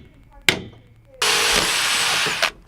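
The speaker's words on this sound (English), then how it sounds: "this framing is a bit easier to drill through because it's aluminum" A power drill bores through aluminum framing inside a Van Hool bus conversion, a sharp thump followed by a loud, steady whirring burst lasting over a second, close and alone.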